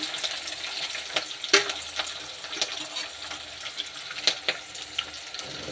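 Curry leaves sizzle and crackle in hot oil for a brinjal kara kuzhambu, a steady close frying hiss broken by sharp pops and spits, with no talking.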